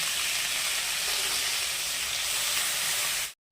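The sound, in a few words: fenugreek leaves frying in oil in a wok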